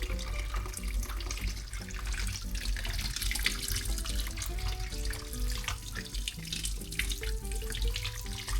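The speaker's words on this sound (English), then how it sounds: "You leave them there to run in cold water." Cold water runs steadily from a kitchen tap over freshly cooked food in a sink, a continuous close splashing hiss with no talk.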